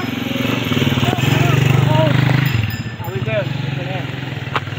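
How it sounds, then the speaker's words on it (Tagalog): A motorcycle engine drones steadily on an off-road savanna trail beside water, a rough low rumble swelling in the middle and settling back, with voices chattering over it throughout. "Motor! Motor."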